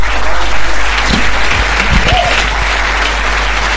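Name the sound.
congregation applauding loudly for the Lord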